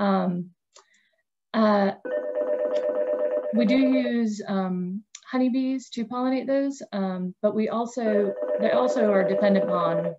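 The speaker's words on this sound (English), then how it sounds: "I apologize about the phone." A telephone rings repeatedly in the background during an indoor talk on pollinators and blueberry crops in North Carolina, its tones partly buried under a speaker's steady lecturing voice.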